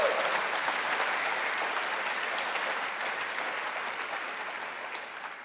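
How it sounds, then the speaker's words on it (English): A conference hall audience at a Labour Party gathering applauds, a soft, even ripple of clapping that tapers gradually, with no voices over it. "A little ripple of applause, please,"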